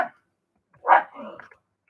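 A dog gives a single short bark followed by a softer whimpering yip, close and alone in an otherwise quiet indoor room.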